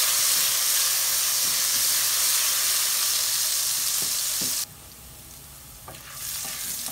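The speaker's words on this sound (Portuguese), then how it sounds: "começou a dourar aqui o alho" Garlic mashed with a little salt fries in olive oil in a pan, a steady dense sizzle that runs loud, then drops suddenly quieter near the end before rising slightly; no talking.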